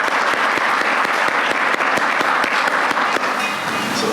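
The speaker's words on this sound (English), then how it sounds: "Let's give him a round of applause." Steady applause from a crowd at an awards banquet, dense clapping that holds at an even level throughout without any talking.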